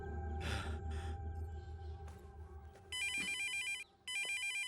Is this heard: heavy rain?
no